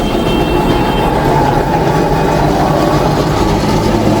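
Kolkata tram WBTC 222 rolling along a crowded street, a loud steady rumble of wheels on rails with grinding metallic texture, continuous and close with no voices.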